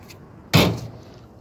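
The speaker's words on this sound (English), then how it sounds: "Do some smashing right there." A hammer smashes scrap metal from pool heaters and dryers, one sharp, loud metallic impact that rings briefly and fades.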